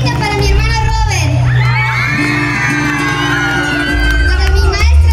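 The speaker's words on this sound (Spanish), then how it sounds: "Y un grito para mi hermano Robert." A live audience at a children's singing talent show cheers, whoops and shouts loudly and continuously, with children's high yells and crowd babble under a voice speaking over a microphone.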